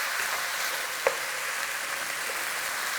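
Black pepper beef stir fry sizzling steadily in a pan, an even crackling hiss running throughout with one brief louder tap near the middle.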